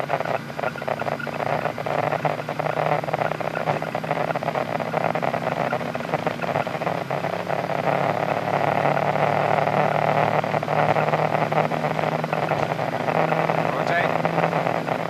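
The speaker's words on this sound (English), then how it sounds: "Okay, take off, thrust set." Airliner jet engines, an Iran Air A300, 727-200 or 747SP, run steadily at takeoff thrust, heard as a loud, constant roar from inside the cockpit as cockpit crew speak over it.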